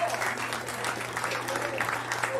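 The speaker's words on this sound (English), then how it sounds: "somebody clap your hands" Audience at a church service clapping hands in a steady, continuous wash of applause, moderately loud and sustained throughout.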